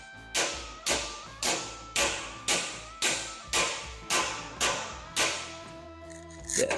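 A high-crowned body hammer stretches a roadster hood's sheet metal over a dolly. Around ten evenly spaced, ringing whacks land roughly every half second, close and loud, and stop near the end.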